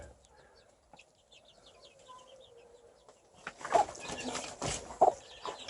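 Near Çağlarca, Antalya, a rooster, hens and eight chicks cluck close by while chicks peep softly. Someone talks over them, and the clucking grows louder and busier toward the end.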